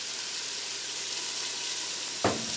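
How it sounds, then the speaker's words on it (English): Onions sizzle steadily as they sauté in an Instant Pot set to the regular sauté setting, a close, even hiss with one brief louder clatter near the end. "I'm going to hit saute again. And just leave it the regular, and I want to dump my onions in there."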